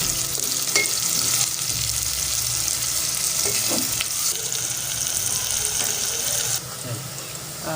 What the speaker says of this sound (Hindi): अब हमने उन्हें फ्राई करना शुरू कर दिया